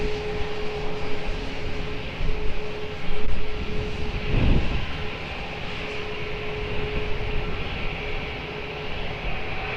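An airplane at Lisbon Airport roars as a loud, steady broadband rumble that swells and fades slightly, with a faint tonal whine running through it.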